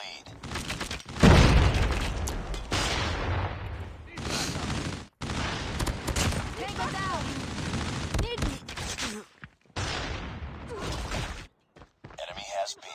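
Rapid gunfire fills a competitive video game match, where players shoot through walls to hit enemies. The shots come as dense, loud bursts broken by brief gaps, with a caster talking over them.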